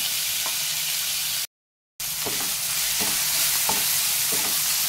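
Onions frying in a pan for a Maharashtrian methi batata bhaji, with chopped tomato and turmeric going in: a steady sizzle with a few soft stirring scrapes, broken by a brief gap of silence.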